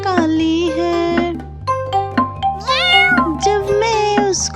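A cat's meow, sung as part of a Hindi nursery rhyme about a pet cat that is black from head to tail, with several repeated meows over a steady music backing. A voice may be imitating the cat rather than a real cat being heard.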